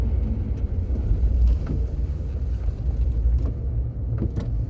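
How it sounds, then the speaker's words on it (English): A work truck rolls along and turns around, its low engine rumble steady and close with faint wind buffeting, no voices over it. "I'm turning around here in my truck, my work truck"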